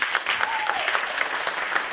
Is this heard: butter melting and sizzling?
no